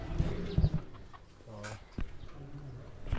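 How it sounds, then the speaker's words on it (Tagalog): A rooster gives a drawn-out, throaty call amid a few dull thumps and scuffles, fairly close, over a rough, noisy background. "Papainumin ang ating tandang na to."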